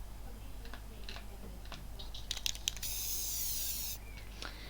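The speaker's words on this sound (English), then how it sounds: "then I bought the paint spray horn" Paint-spray car horn in Forza Horizon 5: a steady hissing spray burst of about a second, preceded by a few quiet clicks and ticks, faint and alone over a low background hum.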